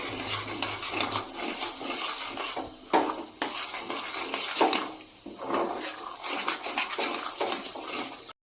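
A spoon stirs and scrapes as amla is mixed with amchur and roasted cumin powder, giving irregular close scraping and clinking strokes with no talking.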